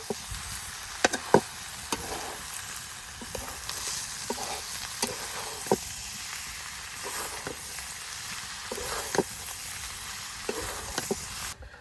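Meat salted and fried in a pan sizzles steadily and close, broken by repeated knocks and scrapes of stirring, no voices heard.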